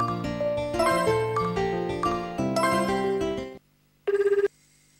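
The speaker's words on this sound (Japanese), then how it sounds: "ハロゲンに電話をしたいと思います。" A telephone call rings in the dating sim video game Tokimeki Memorial Girl's Side 3. A bright melodic ringtone plays for several seconds, then stops, followed by a short burst of rapid trilling bell tone.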